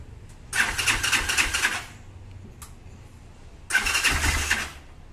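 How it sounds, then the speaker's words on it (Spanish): A Loncin JL250GY Rover motorcycle engine with a knocking fault cranks in two loud, close bursts of about a second and a half each, separated by a quieter stretch with a brief catch between them. "acerca la cámara al motor como para que se vaya escuchando el golpeteo que tiene"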